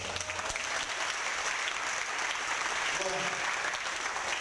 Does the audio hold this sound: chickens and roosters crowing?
no